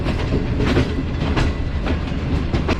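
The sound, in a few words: Shalimar Express train leaving Karachi Cantt railway station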